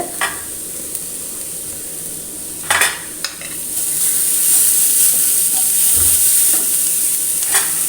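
Curry leaves and chopped carrot sautéing in a hot pan for an egg curry, a steady close sizzle that swells loudly after a few scattered stirring knocks and scrapes of the spoon against the pan.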